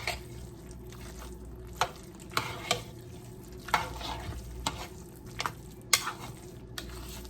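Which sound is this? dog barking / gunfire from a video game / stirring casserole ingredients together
stirring casserole ingredients together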